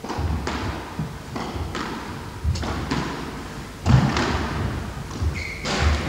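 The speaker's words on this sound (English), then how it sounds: "And the attempted straight drop by Richard into the tin." A squash ball is struck during a 1981 county semi-final match in Norfolk: several hollow thuds and slaps at irregular intervals that ring off the walls of an indoor court.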